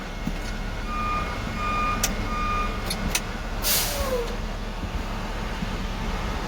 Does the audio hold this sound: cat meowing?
no